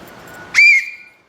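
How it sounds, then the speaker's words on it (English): A single sharp whistle blast from a tour guide, loud and close, rising quickly into one held tone of about a quarter second before trailing off, following quiet background murmur. "if you hear this whistle sound"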